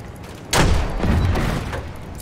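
Gunfire and a heavy boom in the Battlefield 1 video game, with a loud blast that rolls into a sustained rumble of shots and explosions beneath a noisy battlefield.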